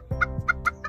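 Young chickens in a small backyard brood peeping and chirping at close range, several short bright calls in quick succession over low rustling, with no talking.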